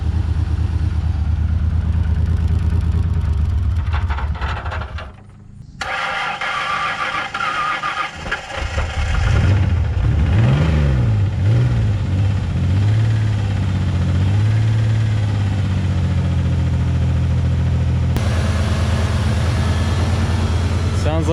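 An old car engine running on old gas starts after a brief dip and settles into a loud, rough idle, rumbling steadily with a wavering, uneven tone; the exhaust is disconnected.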